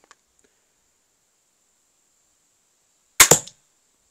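A single shot from a Steambow AR-6 Stinger II Tactical crossbow: a sharp, loud snap with a quick double-struck impact in near silence, followed by nothing.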